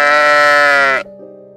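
A single sheep gives one long, loud, close bleat lasting about a second, then drops to a quieter, steady tone before fading. No voices accompany it.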